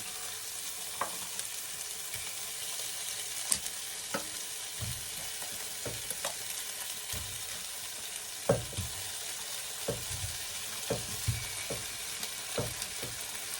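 Chicken wings frying in a pan for a spicy chicken curry, a steady hiss and sizzle punctuated by scattered scrapes and clinks of stirring, close and without talk.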